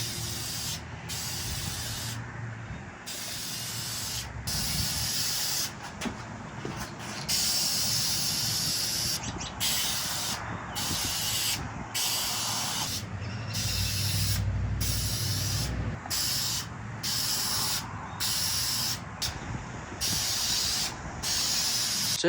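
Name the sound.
spray painting second coat on truck headliner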